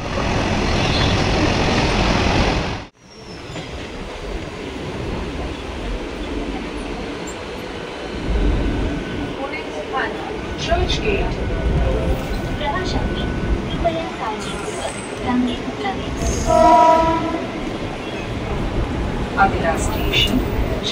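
A Mumbai suburban local train runs from Nalasopara toward Churchgate, a loud rumbling roar of wheels and carriages that drops briefly early on and then carries on steadily, with faint voices in the carriage.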